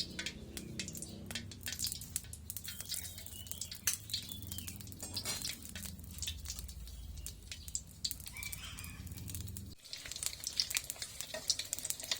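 An egg frying in a pan, a continuous fine crackling sizzle with sharp pops, moderately close and steady, with a brief dip near the end before the crackle resumes.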